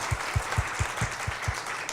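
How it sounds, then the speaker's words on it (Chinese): An audience at a broadcast seminar in Taipei claps steadily to welcome a guest from the Netherlands, giving a fairly loud run of rhythmic hand claps with no voices over it. "那我们给掌声先欢迎他一下"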